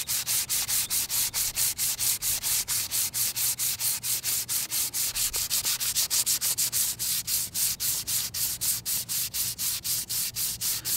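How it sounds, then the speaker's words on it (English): Rough 60 or 80 grit sandpaper rubbing along a handmade wooden rabbitstick, a steady run of rapid, evenly paced back-and-forth rasping strokes, close and continuous without talk. "So I just want to take the rough grit of sandpaper. I think this is a 60 or an 80 grit"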